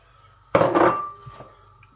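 Chopped onions tipped into a metal soup pot for mulligatawny, a single close clattering thud and rustle that rings briefly and fades, followed by a couple of faint knocks.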